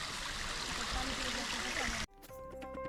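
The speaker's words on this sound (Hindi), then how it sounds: "यहाँ से ये वाटरफॉल है," Waterfall at Devmogra Mata temple, a loud, close, continuous rush of falling water that cuts off abruptly near the end, followed by quieter background sounds.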